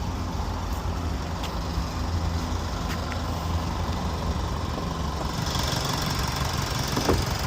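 A Land Rover Discovery Sport 2.0 engine idles close by in the engine bay with a steady, even rumble and light knocking vibration, and nobody speaks.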